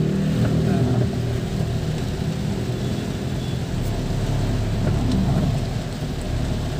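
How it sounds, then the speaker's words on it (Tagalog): Heavy rain pours on a car driving near Antipolo, a dense, continuous hiss over a low engine and road rumble, with a few brief knocks throughout. "Maulan na rito sa Antipolo."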